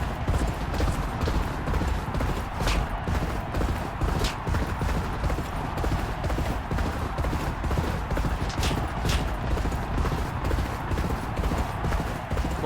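Galloping racehorse hooves in the racing game Champion Jockey: G1 Jockey & Gallop Racer, a steady rapid drumming of hoofbeats that runs loud and continuous through the whole stretch.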